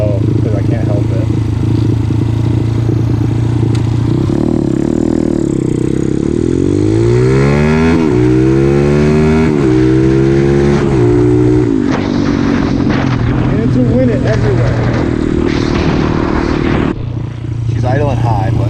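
A motorcycle engine roars loudly up close, revving and rising in pitch through the gears as it accelerates, then dropping back and building again while riding.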